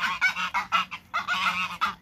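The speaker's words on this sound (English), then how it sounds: "Goose and gander are very vocal" A goose and gander honk at feeding time while chickens are fed, giving loud, close, repeated honks in quick irregular bursts that overlap, with no talking.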